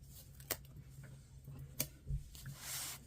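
Scissors trim paper for a junk journal, making a few quiet, separate snips and soft rustles close by.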